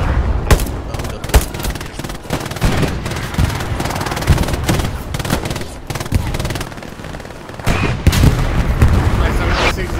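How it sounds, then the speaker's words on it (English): Dense, continuous gunfire and machine-gun bursts from a Hell Let Loose battle, with heavy tank fighting nearby, loud and close, punctuated by sharp shots and booms, with faint voices mixed in. "Yeah, we're firing on him."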